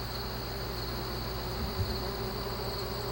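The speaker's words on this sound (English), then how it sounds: "Jerusalem artichokes are a really important source of food for late-feeding bumblebees, like this guy here, and honeybees." Bumblebee buzzing on Jerusalem artichoke flowers, a steady close insect drone lasting several seconds over faint outdoor ambience.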